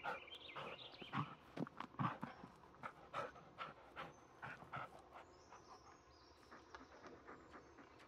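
A dog in the Blair Witch game pants heavily in the dark forest, a rapid rhythm of close, breathy huffs that slowly fades toward the end, with no voices.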